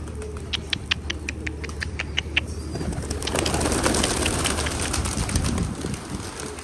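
A sick golden pigeon chick cooing, with a series of short, soft, repeated calls over the first few seconds, followed by a rustling, shuffling noise in a quiet room.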